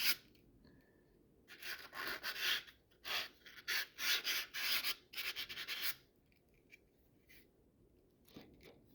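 Scrubbing corrosion and scuffing off the bore of an old brake cylinder on a 1968 International 1100 tractor: a run of short, bright rasping strokes in quick bursts, fairly close, with quieter pauses before and after.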